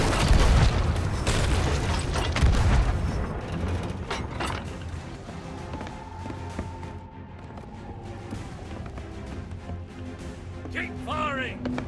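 Ship cannons in the pirate game Sea of Thieves fire in heavy, rumbling booms that cluster at the start and fade into a sustained low roar. Voices and music carry on over them.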